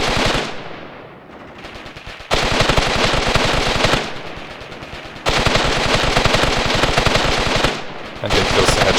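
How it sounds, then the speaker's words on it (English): Tank machine guns in the war game Graviteam Tactics rattle off in long, loud, rapid bursts, separated by brief lulls where a faint fading roar remains. "The machine gun on the back of the turret works. This tank can literally shoot in 3 directions with machine guns."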